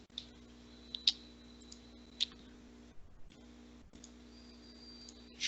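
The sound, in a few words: mouse clicking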